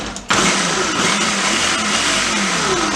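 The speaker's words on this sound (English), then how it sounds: "if y'all wondering what kind of blender this is a Ninja" A Ninja blender pulses jollof sauce, starting abruptly with a loud, steady whirring roar that runs close and continuous to the end.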